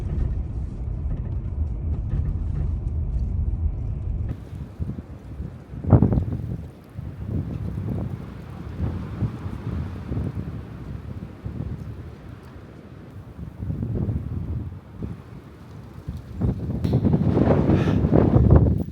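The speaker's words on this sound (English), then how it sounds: "The wind is extremely strong right now" Strong wind in a snowstorm at Great Sand Dunes National Park roars steadily into the microphone, with loud buffeting gusts that rise and fall throughout.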